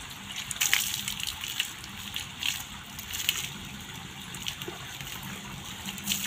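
Water is poured steadily while a dog is bathed on a hot day, a continuous close gushing and splashing that keeps on without a break.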